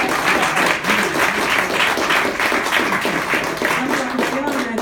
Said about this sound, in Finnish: antamalla näille nyt siis super isot aplodit